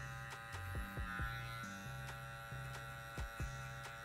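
Electric hair clippers cut a burst fade with a steady, close buzzing hum whose pitch dips and shifts briefly as the blades meet hair, with no voices.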